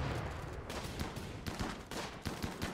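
Raider gunfire in the colony-sim game Rimworld: dense crackling volleys of rapid shots overlapping into a continuous fusillade, fairly quiet and sustained throughout.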